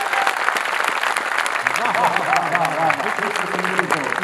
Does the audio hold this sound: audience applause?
yes